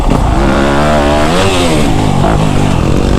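A dirt bike engine revs loud and close while riding through deep sand, its pitch rising and falling as the throttle works, a raspy sustained buzz with no talking.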